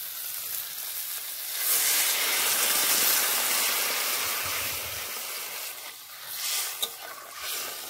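Water hits a hot pan of cooking pumpkin with a loud steaming hiss that swells and then gradually softens into a bubbling sizzle.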